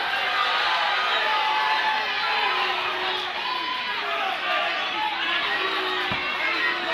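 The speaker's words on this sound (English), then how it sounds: "The crowd letting Brooks hear it." Crowd at a live fight event held at a Harley-Davidson dealership in Charlotte, a steady wash of loud chatter, shouts and jeers filling the whole stretch with no pause.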